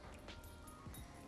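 A pet dog barks and whimpers softly at a distance in a kitchen during steak cooking, with short yips and whines over a low background hum.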